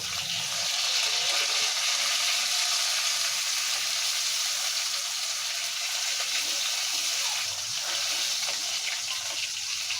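Rohu fish fries in mustard oil with a dense, steady sizzle that stays loud and even, close up, with no pauses or talk.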